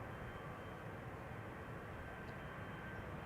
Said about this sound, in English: KLM 737 to Istanbul in the background, taking off now from the center runway